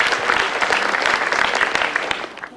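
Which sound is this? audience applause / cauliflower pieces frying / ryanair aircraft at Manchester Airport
audience applause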